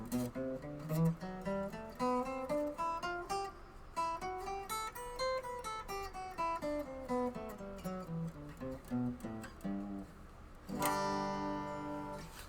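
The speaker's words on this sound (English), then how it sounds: "if I were to take that and play it all the way up using all the notes, it would sound like this" Major scale played note by note up the neck of a stringed instrument and back down, each plucked note distinct and evenly paced, ending in a ringing strummed chord, fairly quiet with no talk.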